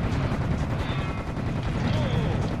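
Rapid gunfire from shooting at a giant in Serious Sam 2 pounds continuously, dense overlapping blasts in a loud, unbroken barrage with game effects mixed in.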